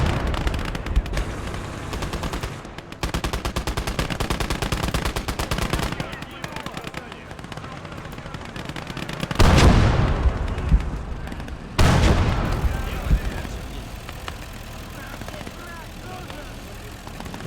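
Machine-gun fire rattles through a WWII video game battle on the southern front, sustained bursts with heavier blasts near the middle, mixed with distant explosions while a voice talks over the gunfire.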